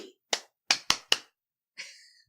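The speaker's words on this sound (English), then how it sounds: "I'm just clapping" Several sharp hand claps in a quick uneven burst, four loud close slaps followed after a short pause by a softer smeared clap, with no talking.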